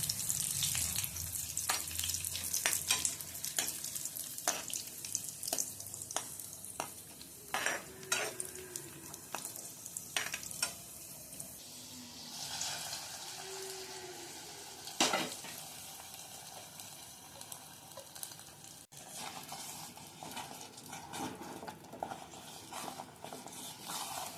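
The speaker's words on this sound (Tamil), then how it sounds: "கொஞ்சம் முந்திரி போட்டு வறுத்துக்கணும்" Cashews roasting in ghee in a pan for chakkarai pongal, a steady soft sizzle with repeated scraping and stirring clicks of a spoon against metal, close and moderately quiet, no talking.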